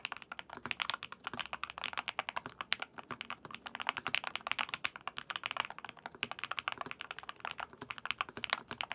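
Steady, rapid clacking of keys typed on a magnetic keyboard, a dense even patter of keystrokes close up with no talking over it.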